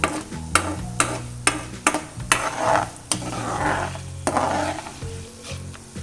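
Urad dal and chana dal sizzle steadily in hot oil for a ginger chutney, with a utensil scraping and stirring the pan in sharp repeated strokes, close and fairly loud with no talking.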